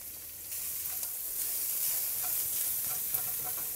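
Chopped shallots fry in oil in a wok over medium heat, giving a steady, close crackling sizzle with faint stirring clicks throughout; no voices.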